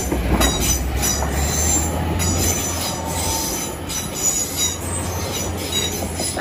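A ten-carriage Class 800 train bound for London King's Cross rolls past a level crossing, a loud continuous rumble with squealing wheels and faint clickety-clack of the carriages throughout.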